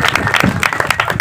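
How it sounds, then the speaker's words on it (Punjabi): A stage-drama audience claps for an old man called up onstage, giving a short, dense burst of applause from a packed house. "ਤਾਲੀਆਂ ਦੀ ਹੀ ਚਾਚੇ ਵਾਸਤੇ ਜ਼ਰਾ ਜ਼ੋਰਦਾਰ"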